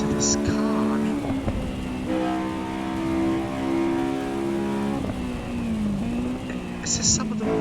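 Race car engine in the sim racing game Assetto Corsa EVO, droning steadily with shifting pitch across gear changes, with brief tire squeal and a voice talking over it.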